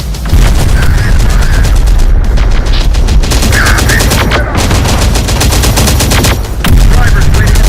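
Heavy, rapid automatic gunfire from the video game Terminator: Dark Fate - Defiance, loud and nearly continuous, with a few short breaks and a strong burst near the end.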